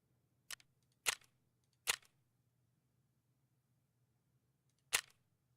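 Four sharp, isolated gunshots in Escape from Tarkov, unevenly spaced over several seconds with near-silence between them over a faint low hum, each crisp and close.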